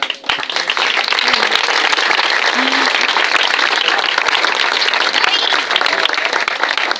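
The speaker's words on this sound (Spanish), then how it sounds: "también merece un aplauso por esa" Crowd applause at an athletics club's cider-house gathering, dense steady clapping from many people filling the whole stretch, loud and close, with faint voices mixed in.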